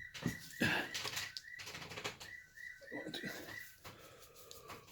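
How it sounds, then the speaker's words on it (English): A bird calls in the early evening with repeated steady hoots drifting in the background, mixed with knocking and scraping sounds from wood carving close by. A voice speaks briefly. "oh, it's the 5 o'clock bird."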